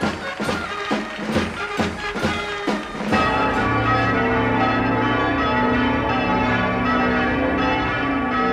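Church bells pealing across Spain in a general victory ringing: several bells clang in quick strikes, then merge into a sustained, resonant wash of ringing tones that stays loud and steady.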